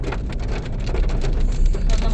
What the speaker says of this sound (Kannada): ನಮ್ಮೂರಿಗೆ ಹೊಡಿತೈತೆ ನೋಡು ಮಳೆ.